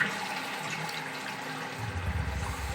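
A western toilet cistern flushing after its push button is pressed, rushing water swelling into a deeper gurgling surge as the flush empties, close by and alone.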